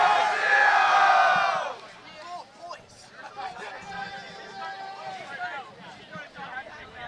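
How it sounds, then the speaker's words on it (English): A crowd of boys from the boys' rugby team roars and yells loudly at a Belmont High School girls' varsity rugby match, a big burst of cheering that drops into scattered shouting and chatter. "We've got a very active crowd here below us."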